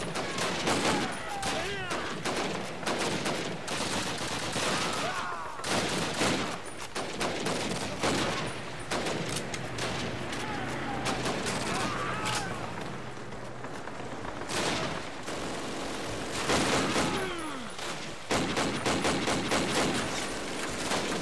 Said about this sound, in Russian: Так, кто-то сел за пулемет.